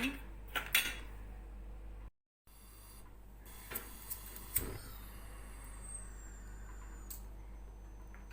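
Faint metallic clinks and light clatters of a small pot of sugar being put on the stove for caramelizing, a few scattered knocks against a steady low hum.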